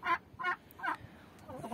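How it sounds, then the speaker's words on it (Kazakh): A turkey gobbles in three quick rattling bursts close by, followed by softer clucking sounds. "Міне бір күрке тауық."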